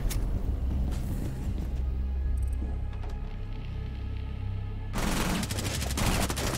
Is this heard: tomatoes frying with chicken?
no